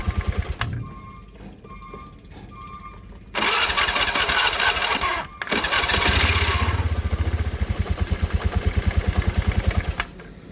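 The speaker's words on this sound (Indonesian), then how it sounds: "untuk dinamo starter sudah bisa dinyalakan kembali setelah kita lakukan pergantian angker pada dinamo starter ini" A Honda Vario scooter, just fitted with a new starter motor armature, cranks with a whirring starter, briefly stops, then catches and settles into a steady, rapidly pulsing idle close by.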